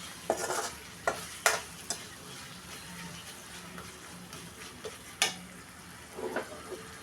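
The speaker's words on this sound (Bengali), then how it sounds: "কাঁচামরিচ, আদা রসুন পেস্ট, লবণ, হলুদ, মরিচ, এ সব কিছু কষিয়ে নিব ভালোভাবে" Green chili, ginger-garlic paste, salt, turmeric, chili and cumin powder being stirred and sautéed in a pan, with a soft steady sizzle under several sharp scraping stirs, close and moderately quiet.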